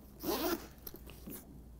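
A zipper on a Legend Archery XT 720 recurve backpack, with rubber-tagged pulls on a tear-resistant nylon bag, is drawn in a quick close rasping pull followed by a few shorter scratchy tugs.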